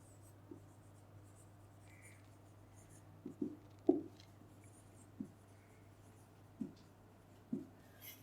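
Faint, sparse pen or marker strokes tap and scratch while an equation is written out, with scattered short marks over a low steady hum.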